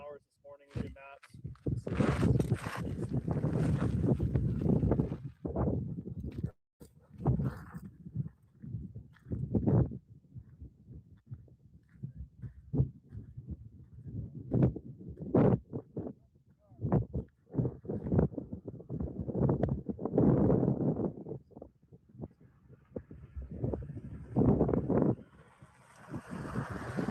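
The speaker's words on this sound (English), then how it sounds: "Wind" Strong gusting wind buffets an outdoor microphone in loud, ragged roaring bursts that come and go for the whole stretch, with people talking in and around the rumble.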